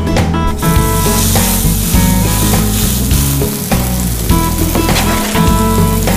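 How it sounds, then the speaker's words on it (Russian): A meat cutlet frying in olive oil in a heated pan, with loud, continuous close sizzling and crackling that holds steady throughout. "Добавляем оливковое масло. Закидываем нашу котлету."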